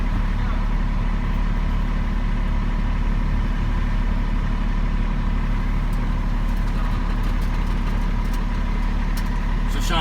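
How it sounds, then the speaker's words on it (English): A 2016 Kenworth T370 tow truck with a 350 HP Paccar PX diesel engine idling, a steady low rumble droning evenly throughout, heard from inside the cab with faint background sounds. "As long as you hear a diesel engine, you're good."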